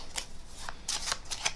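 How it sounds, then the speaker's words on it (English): Playing cards are shuffled by hand at close range during a card trick, giving a few quick, crisp riffling bursts separated by short pauses, with no voices. "choose either of the face down piles and to shuffle those cards"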